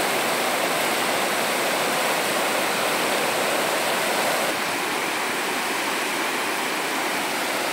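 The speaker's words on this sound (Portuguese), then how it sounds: "a movimentação das águas aqui no açude Acaraú Mirim" Broad, steady roar of water pouring over the spillway of the Acaraú Mirim reservoir in the Massapê backcountry of Ceará, loud and unbroken, with no talk.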